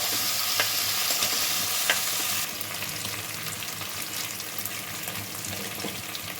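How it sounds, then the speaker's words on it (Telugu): Ginger-garlic paste and ingredients for carrot rice frying in a pan, a loud continuous sizzle with stirring scrapes that eases slightly partway through. "పచ్చి వాసన పోయే వరకు వేయించుకోవాలి"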